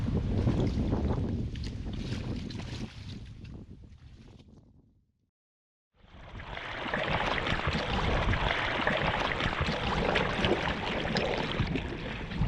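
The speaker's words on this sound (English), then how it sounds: "The winds have turned against me. It's side on. 25 knots." Strong wind of about 25 knots buffeting a small boat at sea in rough water, a loud continuous roar and microphone rumble, dropping to near silence for a moment before surging back.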